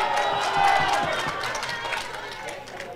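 A boxing crowd at a Scottish super-bantamweight title fight cheers and shouts loudly in a continuous swell, busy and close, with a commentator talking over the noise.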